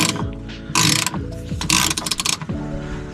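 A ratchet wrench backing out a 12 mm bolt from the fuel filter protective cage on a Volvo 940, rapid close clicking bursts in quick repeated strokes.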